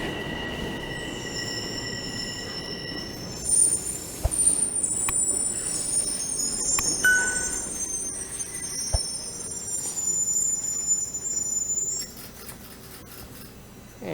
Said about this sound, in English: And here comes my train.